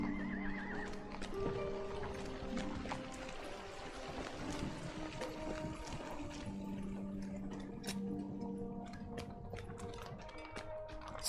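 Horse in the Lord of the Rings Online game neighing and whinnying, with steady clip-clop hoofbeats running through, loud and close, over faint game music.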